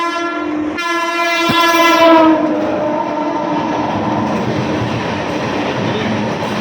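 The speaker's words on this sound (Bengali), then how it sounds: "ট্রেন যাচ্ছে, ট্রেন যাচ্ছে।" A local train passes close by, opening with a loud sustained horn blast, then a steady roar and rumble of wheels and carriages.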